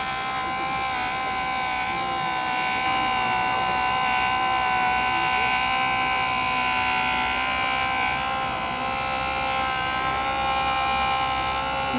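A Jooltool felt wheel polishing a ring bezel makes a steady high-pitched motor whine with a constant buzzing drone, close and loud for the whole stretch, with no talk.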